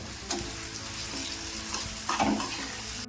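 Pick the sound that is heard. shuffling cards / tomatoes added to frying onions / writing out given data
tomatoes added to frying onions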